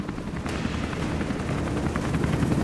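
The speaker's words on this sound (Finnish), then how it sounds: "Ja se helikopteri tulee." A helicopter approaches in the video game Rise of the Tomb Raider, a steady loud rotor roar with dense low thumping that fills the scene continuously without letup.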